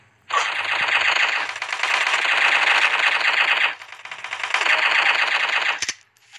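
Rapid machine gun bursts from a shooting video game rattle in two long, loud streams separated by a short gap, ending with a single sharp report.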